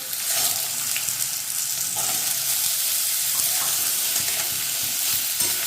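Cut potatoes dropped into hot oil with panch phoron, a constant loud hissing sizzle with occasional soft clinks of stirring, close and even in level, no voices present.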